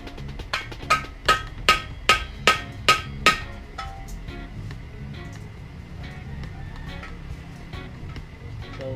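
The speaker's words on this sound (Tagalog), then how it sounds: "gamit natin flat screw at martilyo" Sharp metallic hammer blows strike a flat screwdriver while working loose a stubborn catalytic converter on a Raider 150 motorcycle exhaust, about eight evenly spaced ringing hits in quick succession, then low background noise.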